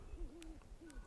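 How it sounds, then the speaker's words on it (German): Owl hooting in the video game Never Alone: two soft, wavering hoots a moment apart, moderately quiet over a low game ambience, with faint clicks between them. "Da unten sitzt die Eule."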